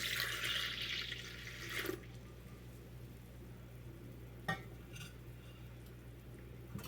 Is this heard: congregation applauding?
no